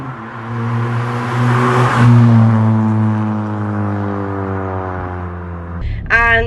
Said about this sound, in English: this exhaust is loud, and it's definitely not standard.